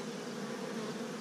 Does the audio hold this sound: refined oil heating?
no